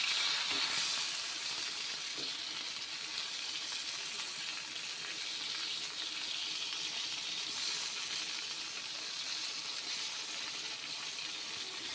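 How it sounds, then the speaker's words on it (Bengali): Sliced pointed gourd (potol) fries in a small wok in a village kitchen, giving a steady, fairly soft sizzle throughout with no voices. "পটল ভাজাটা এই কড়াইটায় বসালাম"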